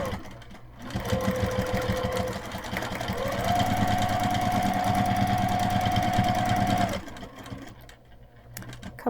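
A Juki sewing machine stitches in free-motion quilting, a rapid, close mechanical chatter that speeds up with a rising whine, holds steady for several seconds, then stops.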